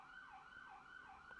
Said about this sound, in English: Hear a siren coming.